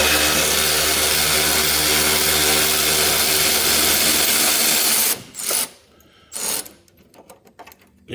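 A ratchet turns a 13 mm exhaust bolt under a 2015 Ford Mustang, starting as a continuous loud whirring rattle, then breaking into shorter bursts of close, sharp clicking with gaps between.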